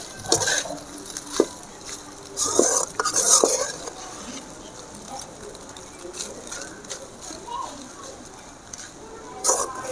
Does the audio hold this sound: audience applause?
no